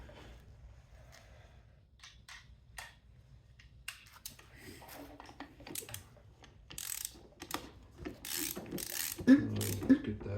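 A ratchet wrench tightens a bolt on a Yamaha YZ250X motorcycle. Sparse, quiet clicks come first, then a louder burst of close ratcheting near the end, with no voices.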